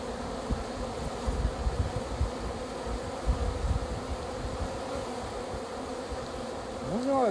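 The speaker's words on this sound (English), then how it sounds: "These are extremely happy bees," Honey bees buzz in a steady, dense drone at a large, busy beehive on an afternoon in extreme southern Alabama, with plenty of drones about; the hum fills the whole span close by, no voices.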